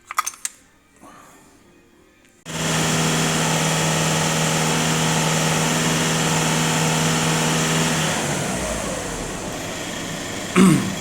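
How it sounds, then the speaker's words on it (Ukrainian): A Skoda Octavia 1.6 TDI diesel engine cranks and catches on a cold start at close range, then settles into a loud, steady idle that holds for several seconds before dipping slightly near the end, with no talk. "І роблю холодний старт."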